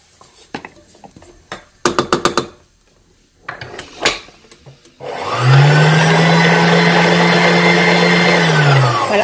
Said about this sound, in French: je vais laisser pétrir comme ça 10 minutes